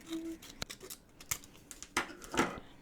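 Scissors snip through a reading journal page in a few short, crisp cuts with uneven spacing, close and fairly quiet, and no one speaks.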